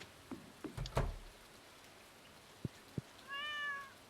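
A cat in the farming video game Stardew Valley gives a short rising meow near the end, after a few soft taps and clicks over faint rain-like hiss.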